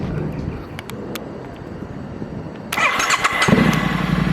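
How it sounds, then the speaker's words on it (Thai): A 2016 Triumph Street Twin 900 motorcycle turns over and fires up at close range, its engine catching partway through and settling into a steady, rumbling idle. "อ่ะเดี๋ยวเรามาฟังเสียงสตาร์ทกัน เปิดสวิตช์นะครับ"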